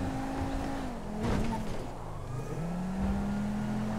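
An Aston Martin driven in Grand Theft Auto 5, its engine note sliding up and down through gear changes with a couple of brief revving surges, fairly close and heard without talk.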